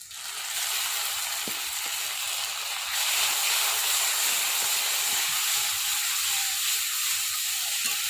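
Green chilli dropped into a hot pan of oil for a ridge gourd and prawn poppy seed dish, producing a continuous hissing sizzle that swells slightly louder partway through, close and with no voices.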